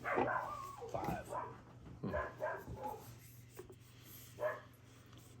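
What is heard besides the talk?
dog barking at a passer-by outside the house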